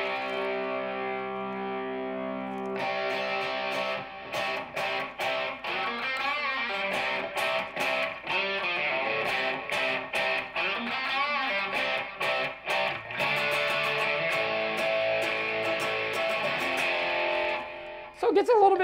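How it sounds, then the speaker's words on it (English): An electric guitar plays a riff through overdrive, gritty and sustained with chords and single notes, loud and close, no voices. "you hear it's a little more distortion to it"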